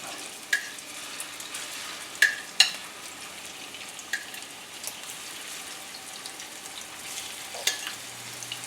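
Sriracha chicken meatballs sizzle and crackle steadily in a pan over medium-high heat, with a constant low fry and scattered sharp pops and spatters throughout, with no talking.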